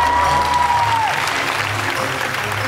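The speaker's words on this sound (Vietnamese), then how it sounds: "Mọi người cho Minh Tú một tràng pháo tay được không ạ" Studio audience applause on a Vietnamese comedy game show, steady dense clapping filling the whole clip with no talk over it.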